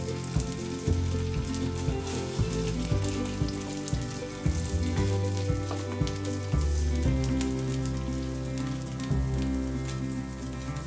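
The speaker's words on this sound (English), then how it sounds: "Take a pan, add around 2 to 3 tablespoons of oil and then add the momos, fry it a bit." Steamed vegetable momos pan-frying in two to three tablespoons of oil, a continuous crackling sizzle like light rain with low clunks of the pan, close and steady, no talking.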